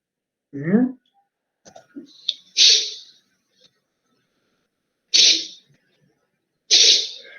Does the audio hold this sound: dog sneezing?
yes